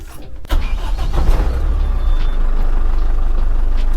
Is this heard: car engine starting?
yes